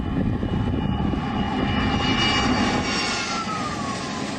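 A Sukhoi Su-35 fighter jet engine roars in a sustained, loud, unbroken drone with a faint rising whine layered on top, heard alone without talk.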